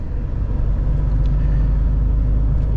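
A loaded truck driving on the road, heard from inside the cab as a steady low engine and road rumble, loud and even with no voices.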